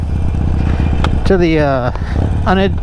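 A 2020 Harley-Davidson Sportster 1200 Iron rumbles low and steady on a shakedown ride, its pulsing engine note running beneath a voice speaking close by.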